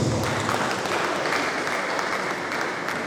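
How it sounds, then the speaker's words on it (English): Audience at an orientation workshop for newly recruited university staff claps steadily, a dense close round of applause throughout. "Can we please give a round of applause to AGO-IWOYE for this opportunity?"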